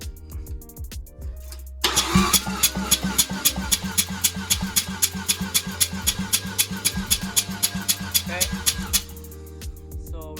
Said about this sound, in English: We got the starter hooked up to our battery. My dad's gonna help me out to crank it